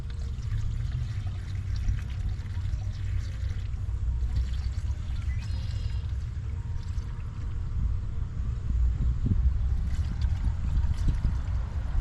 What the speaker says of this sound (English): Now I'm going to pour another gallon in there till I can feel it in the hose, or hear it in the hose.